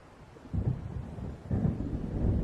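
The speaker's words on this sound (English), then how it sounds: "It seems there's a storm coming." Deep rolling thunder from an approaching storm in the video game Alan Wake, two heavy low rumbles swelling in turn and filling the clip, no voices.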